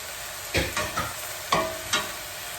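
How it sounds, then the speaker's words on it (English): Pasta sauce with mixed herbs sizzles steadily in a pan while a utensil scrapes and stirs a few times, close by and with no one talking. "You hear that sizzling?"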